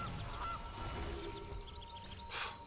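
A game's goose effect gives a short honk over steady background music in MTG Arena, a burst near the end standing out briefly.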